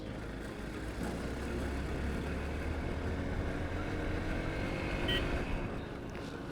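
A Hero XPulse 200 motorcycle rides through city traffic, a steady engine drone blending into a constant broad rumble of surrounding road noise, moderately loud with no speech.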